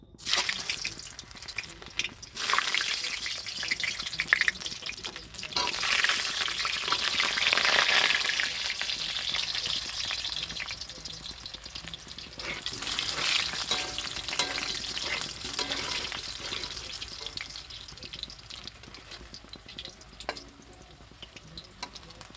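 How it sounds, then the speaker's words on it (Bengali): Potatoes fry in hot oil left over from browning onions for chicken biryani, a steady crackling sizzle with occasional stirring scrapes and dripping, loud and close throughout with no talking. "ওই তেলে দিয়ে দেবো আলুগুলো ভেজে নেব"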